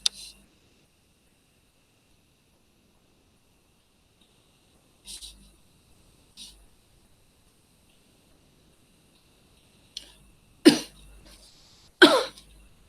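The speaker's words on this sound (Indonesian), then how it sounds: "Jadi mohon maaf Ibu batuk." A woman coughs in short separate bursts, faint at first and then two loud, harsh coughs close together near the end, with silence in between.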